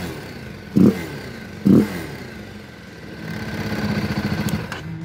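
A BMW G 310 GS motorcycle engine running without an air filter, idling with a rough, clattering note, two sharp bursts of revving early on, then a rising, pulsing rumble toward the end.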